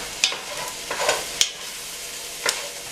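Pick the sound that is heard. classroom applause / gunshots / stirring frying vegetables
stirring frying vegetables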